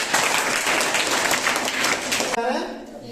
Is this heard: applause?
yes